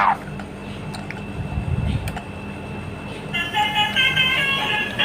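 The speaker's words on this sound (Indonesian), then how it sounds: "Wah, ada bus tayo telolet." A toy Tayo bus sounds its telolet horn, a bright multi-tone musical honk that starts partway through and carries on to the end, close by, over low handling rumble and background noise.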